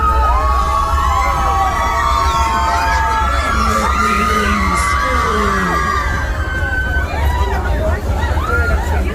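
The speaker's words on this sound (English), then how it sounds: "When y'all get inside this tunnel, I want you to scream real loud." A crowd screams and yells continuously inside a tunnel at a Six Flags Fright Fest, loud and echoing, with overlapping voices and a deep rumble underneath.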